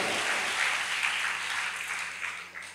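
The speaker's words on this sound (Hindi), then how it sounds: "हम ताली बजा के परमेश्वर को धन्यवाद दें।" A church congregation claps together in a prayer hall, a dense, steady patter of many hands that holds for a few seconds and tapers slightly near the end, with no speech.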